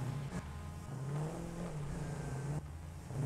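A car engine in the Satisfactory video game revs steadily, a low continuous drone with pitch shifts as the vehicle is turned around inside a cave, close and fairly loud with no talking.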